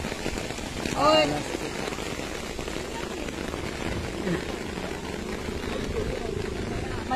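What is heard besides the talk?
heavy rain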